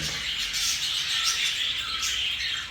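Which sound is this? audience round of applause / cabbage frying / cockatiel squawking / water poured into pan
cockatiel squawking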